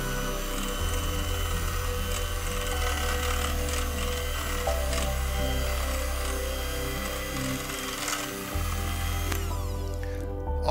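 An electric mixer whisks egg-free coleslaw dressing with a steady motor whine and hum, shifting pitch in stages as the speed changes. It runs close and continuous, with faint clatter and no talk.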